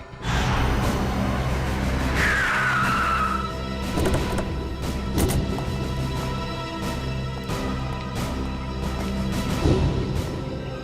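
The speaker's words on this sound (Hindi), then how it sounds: "उनकी गाड़ी का बैलेंस बिगड़ा, स्टीयरिंग पर से कंट्रोल छूटा और गाड़ी इस दीवार से आके टकरा।" Dramatic TV crime-show crash scene of a car losing its balance and slamming into a wall: loud tire squeal and engine roar, then heavy impacts and scattered bangs over a steady low rumble, with no speech.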